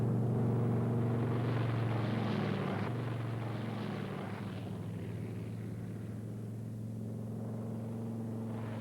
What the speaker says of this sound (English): the Lightning accelerated down the runway into the wind, lifted off, and as soon as possible retracted the landing gear and raised the flaps